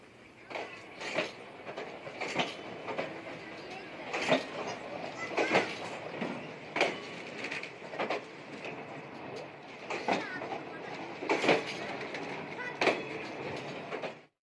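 A freight train rolling along the rails, its wheels clacking in a steady rhythm over a constant rumble, fairly close and continuous.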